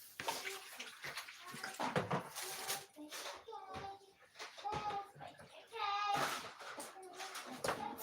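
Fresh basil rinsed under running water, splashing and trickling in short bursts, heard beneath a person talking close by.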